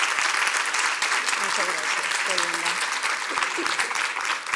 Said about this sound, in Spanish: quiero pedir nuevamente un aplauso para, Rosana.